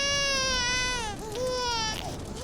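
In The Stanley Parable video game, an infant cries in sustained, wavering wails that dip briefly before rising again, loud and close.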